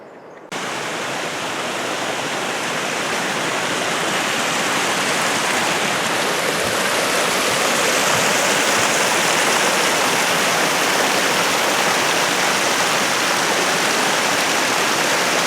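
A small waterfall beside a mountain trail rushes in a steady, dense wash of falling water, close and loud, holding even throughout with no voices.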